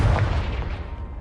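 A single heavy blast from the Confringo spell in Hogwarts Legacy, loud and booming with a deep low rumble that quickly decays, heard alone.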